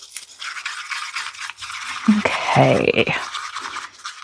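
Coloured resin for a Nativity scene casting mould is stirred in a container, making a steady scraping, brushing rattle throughout, with one brief spoken word partway through.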